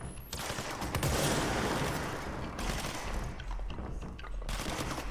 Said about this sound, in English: He's also got shooting in the head here,